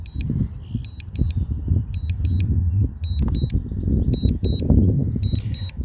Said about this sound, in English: Apologize for the beeping noise.